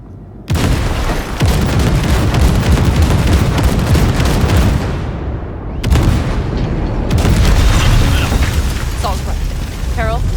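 Heavy explosions blowing open a massive gate in Cyberpunk 2077, loud and close, with sustained rumbling blasts, a short drop-off, then further booming bursts and debris, with voices talking over parts of it.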